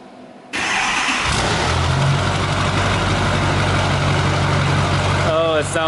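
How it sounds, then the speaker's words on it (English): A modified 650 hp Duramax LML diesel in a GMC Denali pickup turns over by remote start and catches into a loud, steady idle, with a brief chirp and chatter near the end. "They got cool things like remote start."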